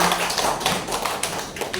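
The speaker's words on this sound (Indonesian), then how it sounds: "Tepuk tangan dong untuk Dinas Pendidikan." Short burst of audience applause at an in-house teacher training session, brisk close clapping from a small crowd with no talk over it.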